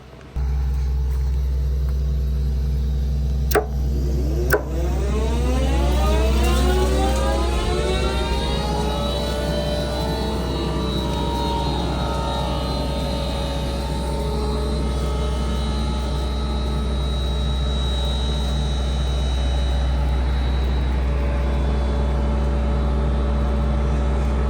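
A tractor engine drones steadily while seeding canola in a field, a loud continuous low rumble with a rising whine as it pulls away, and two faint clicks near the start.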